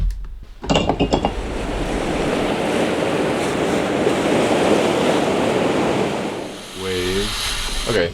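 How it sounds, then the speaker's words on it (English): Ocean waves wash in as a broad, steady roar of surf that swells and recedes, close up, with a few clinking sounds at the start and near the end. "so that's the waves on their own"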